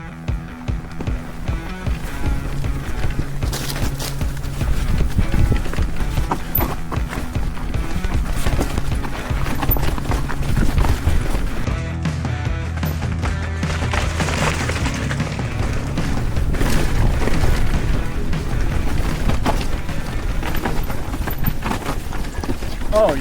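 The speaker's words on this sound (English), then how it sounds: "let's see how it does bombing down through this technical chunk" An e-bike with a coil shock rattles and thumps down a rocky technical mountain trail, a steady loud clatter of tyres, chain and suspension hits under rushing wind noise.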